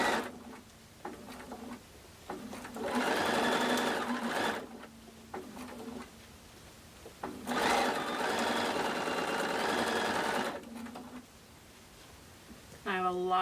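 Sewing machine stitching through several layers of felt for a pumpkin, two long runs of rapid, even needle chatter separated by short stitches and quiet pauses, with a voice talking at times.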